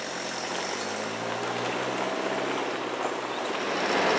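Lotus Europa sports car engine running as a drive gets under way: a dense, broadband roar with a low rumble underneath, steady throughout and swelling slightly louder toward the end.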